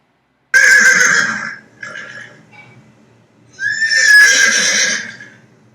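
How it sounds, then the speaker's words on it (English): A horse neighs twice: a loud, shrill whinny, then a pause and a second full whinny, both close and clear with no talking over them. "It's a horse."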